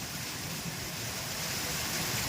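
Heavy rain falling during a storm in Chalala, Gujarat, a constant broad roar of downpour with a low rumbling undertone, unbroken and moderately loud, and no talking.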